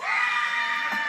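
An audience at a promotions ceremony cheers and whoops, a dense, sustained crowd roar with shouting voices that holds steady and loud for about a second.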